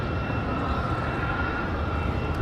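Boeing 777 jet, an American heavy bound for London Heathrow, departing at night from Raleigh Durham airport, a steady loud roar of engines that holds constant throughout with no talk.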